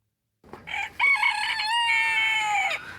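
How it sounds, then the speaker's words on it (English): A rooster on Hennessy Farm in Pegram gives one loud, close crow, a rising then drawn-out cock-a-doodle-doo lasting about two seconds and heard alone. "You might have heard that roosters crow at the break of dawn."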